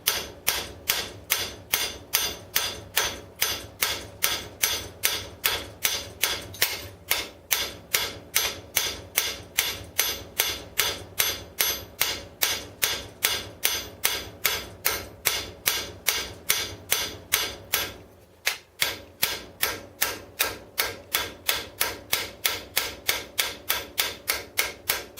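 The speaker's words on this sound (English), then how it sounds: "Now, I mostly use the flat face of the hammer." Steady, evenly spaced strikes of a hammer's flat face on metal rivets ring out one after another for a long stretch, with one brief pause partway through.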